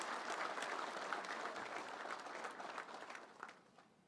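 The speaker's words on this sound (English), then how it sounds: "You can now clap completely." An audience applauds at a Kenya Defence Forces military handover ceremony with a dense, steady patter of clapping that heard from some distance, then thins out and fades near the end.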